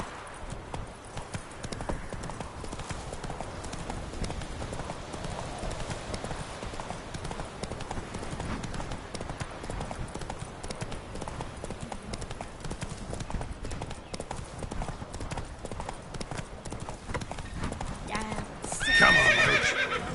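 Roach, the horse in The Witcher video game, gallops in a steady, continuous clip-clop of hooves and ends with a whinny; a voice speaks during the ride.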